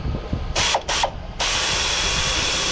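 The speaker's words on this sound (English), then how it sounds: "with a 1/4 inch air ratchet." A 1/4 inch air ratchet works a bolt loose during a Kia 2.4L engine teardown, giving two short hissing, buzzing bursts followed by a sustained whirring run, close and loud.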